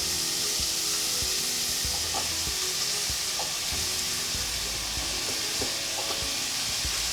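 Continuous sizzling and crackling of mushrooms frying in a pan, with occasional scraping stirs, close and steady throughout.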